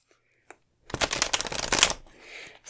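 A deck of tarot cards being shuffled by hand: a brief riffling burst of rapid papery flicks lasting about a second, preceded by a single soft tap and trailing into a quieter rustle.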